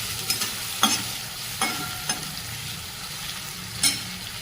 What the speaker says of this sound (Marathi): आता आपण हे सगळं साहित्य गॅस जोड्यात ठेवून परतून घेणार आहोत